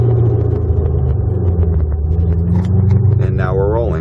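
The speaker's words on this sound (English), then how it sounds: "slowly release off of the gas until you feel your biting point, and give it some gas in the meantime" A manual transmission car pulls away in first gear, its engine giving a low steady rumble that rises slightly in pitch near the end, with a person talking over it.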